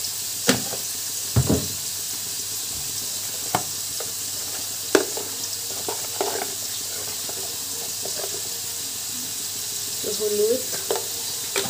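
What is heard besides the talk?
paneer frying in a pan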